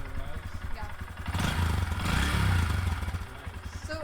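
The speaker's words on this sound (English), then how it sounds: "You want to give it a couple of revs?" A Honda Grom motorcycle engine idles with a low pulsing throb, then is revved up once to a louder swell and settles back, heard close with voices talking nearby.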